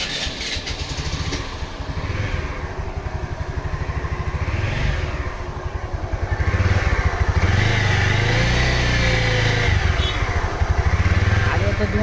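A serviced Honda Wego 110cc scooter engine runs steadily at close range, its dense low mechanical rumble growing louder partway through, with a person talking over it.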